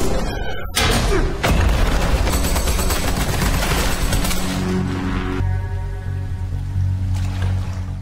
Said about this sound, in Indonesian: Meski di sini ia berhasil menembak beberapa peluru ke arah Jong-kyung